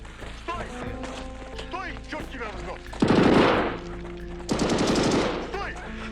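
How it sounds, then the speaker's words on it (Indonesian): Automatic gunfire bursts out in two loud rapid volleys, around three and four and a half seconds, over a busy background of voices and other battle noise in a dramatized armed clash involving Cuban and Soviet officers. "Suara tembakan ini pun didengar oleh kawan-kawan yang lain"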